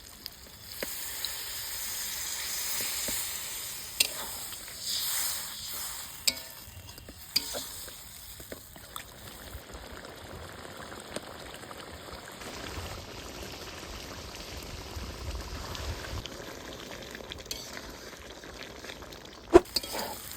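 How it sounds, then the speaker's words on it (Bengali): Small pieces of mutton scrap sizzle and fry in a pan as a little water is added and stirred in, a steady hiss and bubble with occasional scraping clicks of the spoon, fairly quiet and close, no talking. "এবারে খাসির ছাটটা সেদ্ধ করার জন্য দিয়ে দিব অল্প করে জল।"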